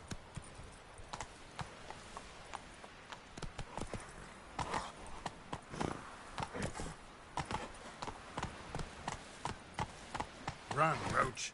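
Roach, the horse in The Witcher 3, galloping with rhythmic hoofbeats on the ground, steady and fairly faint, with occasional game sounds and a brief whinny-like tone near the end.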